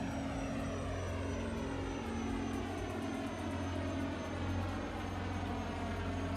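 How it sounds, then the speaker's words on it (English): Spacecraft engine in the video game Dual Universe, hauling heavy loads, gives a steady, loud droning hum with a deep tonal whine, constant throughout with no talking. "I don't remember hearing that kind of engine noise last time."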